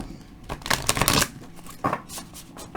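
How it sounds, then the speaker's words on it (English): A Psychic Tarot card deck is shuffled by hand in close, uneven bursts of crisp riffling and slapping, with short pauses between, no voice over it. "And I can shuffle them because they're not too horribly huge."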